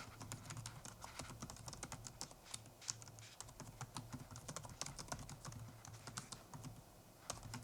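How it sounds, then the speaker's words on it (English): Typing on the keyboard of a NexDock 6 laptop dock: a steady, rapid run of close, quiet key clicks with no talk. "Now let's go ahead and try out the keyboard here."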